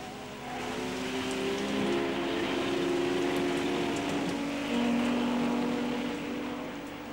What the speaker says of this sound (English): It was pouring with rain when the race began